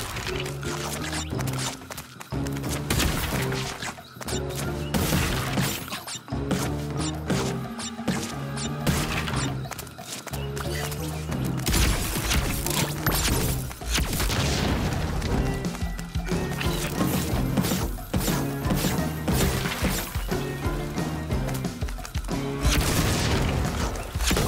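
Sci-fi blaster fire from a player weapon on new settings in Crash Bandicoot 4, level Fossil Fueled, with prehistoric predator enemies: dense, loud bursts of repeated booms and crashes over busy game music, running continuously.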